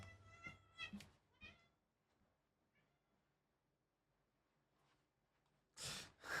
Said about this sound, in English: Did you hear the meows? Cute meows.